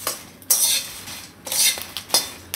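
Whole spices for goda masala being dry-roasted and stirred in a pan, a spoon scraping and clattering against the metal in repeated bursts, close and fairly loud, with no talk.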